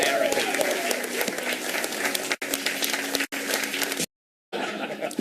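Studio audience applause on a late-night comedy talk show, a dense, steady clapping crowd with brief cuts and a short gap of silence near the end.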